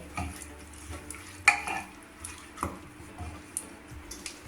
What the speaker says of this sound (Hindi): उसके बाद इसको हम अच्छी तरह से चला लेंगे